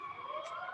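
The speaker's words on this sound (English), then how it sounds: "Sirens." A wailing emergency siren sounds at a distance, its steady tones holding across a short moment with no talk over it.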